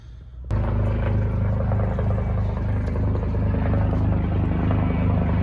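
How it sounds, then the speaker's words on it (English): A police helicopter roars steadily overhead in Sunbury, its loud rotor thrum and engine rumble constant and close after a sudden rise at the start. "That's the police helicopter."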